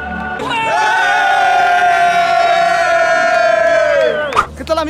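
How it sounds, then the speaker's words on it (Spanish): A crowd at an event with Banco Santander roars and cheers loudly in a sustained, near group shout that holds for about four seconds before breaking off into scattered voices. "Un aplauso, por favor, para ellos."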